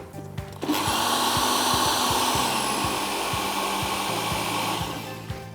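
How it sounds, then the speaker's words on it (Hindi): A mixer grinder blends masala paste, a loud continuous motor whine with a steady hum that holds for several seconds after starting, then begins to fade near the end, with no talking. "ब्लेंड करके ऊपर नीचे करिए ताकि मसाला अच्छी तरह पिस जाए अंदर।"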